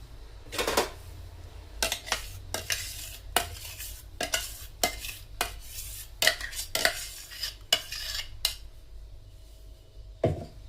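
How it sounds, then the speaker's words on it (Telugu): Cake batter being stirred and mixed in a bowl for a stovetop Christmas and New Year cake, heard as bursts of scraping and clinking strokes spaced across the clip, fairly quiet, with no talking. "పోసుకొని అలా మొత్తం కలిపేసుకోవాలి"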